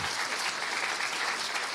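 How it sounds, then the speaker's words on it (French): Audience applause fills a French workplace-wellbeing colloquium, a dense, even patter of many hands clapping steadily throughout the short stretch with no voices over it. "je vous propose de l'applaudir parce qu'elle s'est énormément investie"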